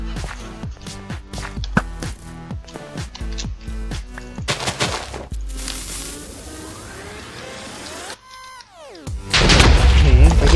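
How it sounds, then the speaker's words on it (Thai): Minecraft Skywars match where sharp booms and blasts crack out among rapid sword hits and bow shots, several close, loud impacts ending in a bigger eruption, game sounds busy and layered. "ระเบิดโดนกูด้วย"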